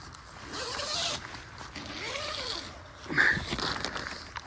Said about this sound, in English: The zipper is way down here in the bottom.